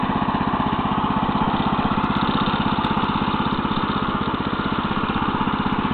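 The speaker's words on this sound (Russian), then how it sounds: "И заодно катаю двигатель." A Neva MB-2 walk-behind tractor tills damp soil mixed with manure in first gear, its small engine running with a steady, rapid throbbing putter that holds at a constant loud level throughout, with no talking over it.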